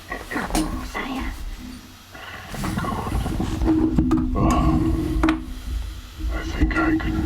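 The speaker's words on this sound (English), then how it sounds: "I like how there's lion growls as he talks" Low lion growls rumble under a character's voice in the video game Conker's Bad Fur Day, rising and falling in loud roaring bursts mixed with game sounds and talking.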